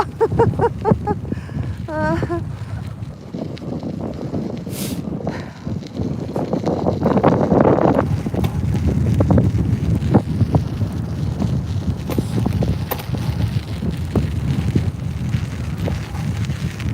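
Strong gusts buffet the microphone outdoors in the countryside, a continuous low rumbling roar with surging bursts over about seventeen seconds.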